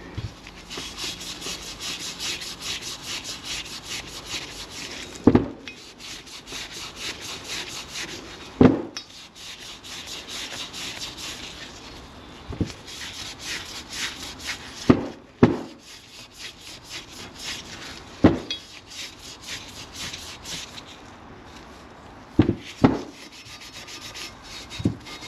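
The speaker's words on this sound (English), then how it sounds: "we're going to clean the hub up a little bit" Scrubbing the wheel hub of a Razor 900/1000 scooter with a Scotch-Brite pad, a long steady abrasive rubbing punctuated every few seconds by sharp knocks and clacks, close and without talk.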